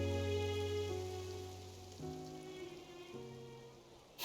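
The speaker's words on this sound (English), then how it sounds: "It rained for longer than I suspected." Soft, steady rain patters in Genshin Impact, in the Fontaine region. It stays faint beneath sustained musical tones for the whole stretch.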